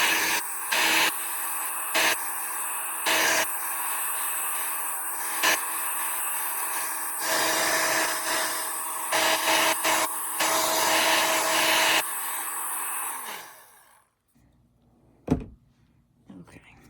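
A heat tool blows steadily over stamped mixed media cards in loud bursts of whirring air, switching on and off repeatedly before cutting out, with brief talk and a clack near the end.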